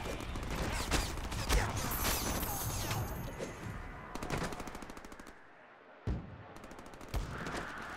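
Sustained machine-gun fire crackles through a chaotic Deadpool video game firefight against swarms of clones, dense rattling bursts with crashing impacts, briefly dropping out near the end before another sharp burst.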